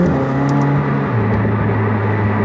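A McLaren 765LT Spider pulls hard under acceleration, its engine a loud, steady drone from inside the cabin whose low note steps and shifts as the revs climb, with no talking over it.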